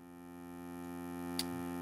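A pulsar synthesis waveform patched in VCV Rack, the software modular synth, drones as a steady, harmonically rich tone, neither quite a sine nor a wave-shaped sound, with a brief bright click near the end.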